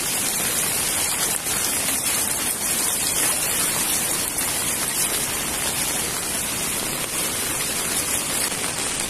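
Swollen Narayani river rushing in flood, a dense, steady roar of water that is loud and unbroken throughout, with no talking heard.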